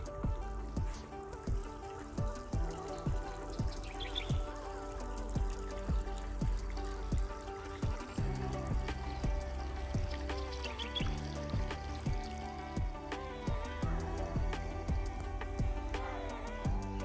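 Water trickles along a quiet village stream, a soft continuous dribbling with small splashy clicks, heard alongside steady tonal background sounds.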